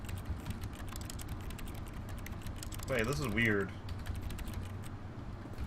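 Keyboard typing heard as in-game audio in The Stanley Parable, a steady run of quick clicks and taps through the whole stretch, with a voice talking briefly over it midway.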